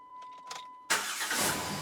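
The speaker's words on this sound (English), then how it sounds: "Start it up one more time. I just want to hear it." A 2011 Jeep Wrangler engine cranks and catches abruptly after a quiet moment, then settles into a loud, steady idle close by.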